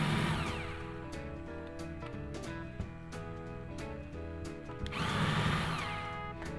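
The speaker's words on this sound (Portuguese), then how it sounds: "E agora eu vou marcar os furos com a furadeira." A power drill whines steadily with a high motorized hum, surging louder near the end as a 2 mm bit bites into wood; no talking.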